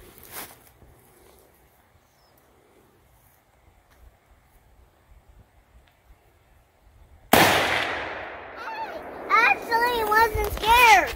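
A single loud gunshot fired at a target bursts out after a long quiet stretch and rings off briefly, with a voice chattering right after it.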